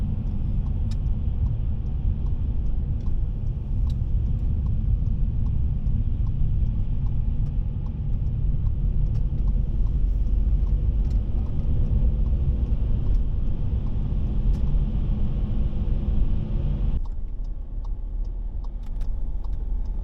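A car drives through a long road tunnel in Norway, a steady low rumble of engine and road noise filling the space, the tone shifting near the end as the echoing enclosure changes.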